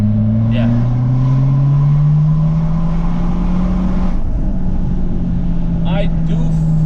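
A BMW F20 114i with the N13 engine and a GFB diverter valve revs in second gear from around 3000 RPM, a steady rising drone heard from inside the car, with brief voices over it.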